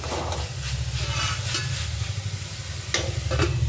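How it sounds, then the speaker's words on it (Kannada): Mushrooms fry in oil in a pan with a steady, close sizzle, broken by occasional scrapes and clinks as they are stirred. "ಇದು ಮಶ್ರೂಮ್ ಎಲ್ಲ ಚೆನ್ನಾಗಿ ಫ್ರೈ ಆಗಿದೆಯಲ್ಲ"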